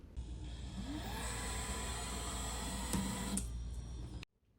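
An xTool F1 laser engraver whirs and hums steadily as its motors move during final calibration, a continuous close mechanical drone with faint sweeping tones that cuts off abruptly at the end.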